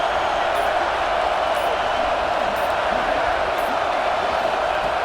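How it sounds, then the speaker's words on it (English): Constant broadband roar of a stadium crowd in a college football video game, NC State visiting UCLA, a dense, steady wash of many voices filling the whole span with no breaks and faint higher cheering streaks. "It's early, but this crowd is fired up. Listen to this noise here."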